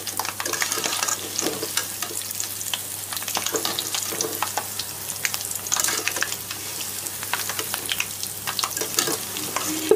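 Urad dal bondas deep-frying in hot oil, a constant close bubbling sizzle with crackling pops throughout, loud and uninterrupted.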